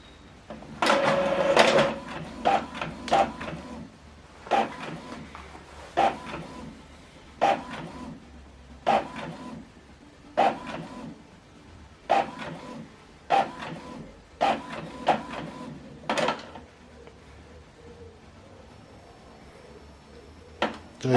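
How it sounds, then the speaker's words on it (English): An Epson printer running a double-sided print job, making a repeated series of mechanical clunks and whirring paper-feed strokes at a steady rhythm about every two and a half seconds, close and fairly loud, with no talking. "So we're going to print this one double-sided."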